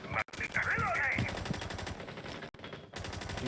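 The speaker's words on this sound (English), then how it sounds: "You hear some gunfire" Rapid automatic gunfire rattles in the Rainbow Six video game during a college esports match, dense and sustained under game sounds.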